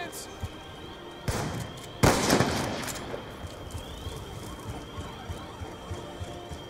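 Weapon fire in Call of Duty: Black Ops II, a couple of sharp blasts with a ringing tail over busy game noise, then smaller repeated impacts, with someone talking throughout.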